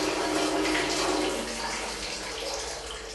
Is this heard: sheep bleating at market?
no